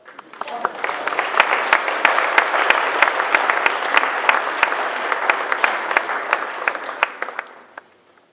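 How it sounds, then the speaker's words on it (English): Steady applause from a crowd, dense clapping that holds for several seconds and then fades out at the end. "A round of applause for our"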